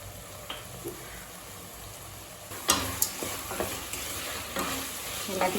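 Mixed vegetables (beans, peas, potato) stirred and sautéed in a pan for coconut milk brinji rice, giving a steady sizzle with scraping stir strokes that grow louder and more frequent midway.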